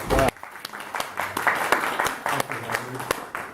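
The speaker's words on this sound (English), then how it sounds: "Let's have a round of applause." A round of applause from an open mic night audience, a scattered burst of claps that starts sharply and keeps going under voices.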